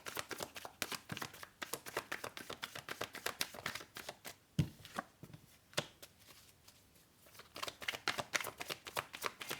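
Tarot cards are shuffled by hand in quick, soft, papery riffles and taps, close but faint, running in a steady stream with brief pauses, and no one speaks.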